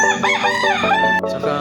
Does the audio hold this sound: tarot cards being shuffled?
no